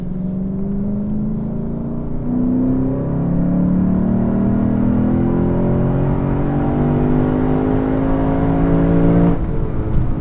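A naturally aspirated Lexus RC F engine hums low and steady, rising gently in pitch as it revs, close and continuous with no talk.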